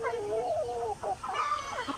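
Rhode Island Red and native chickens clucking and murmuring close by, overlapping calls that run continuously through the short stretch without a break.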